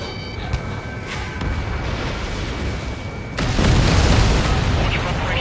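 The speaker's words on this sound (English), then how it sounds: "Missile launched." In Ace Combat 7, a missile launch releases a steady roaring rush that swells suddenly into a heavy, sustained booming explosion, loud and close, over continuous game engine noise.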